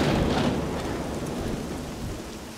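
A sudden cartoon thunderstorm rolls in, with loud low thunder rumbling over steady, hissing rain that fills the scene and slowly eases, no voices present.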